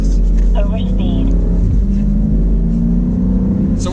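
Deep, steady engine rumble from a 2017 Dodge Challenger Hellcat running close by, loud and continuous throughout, with voices talking over it.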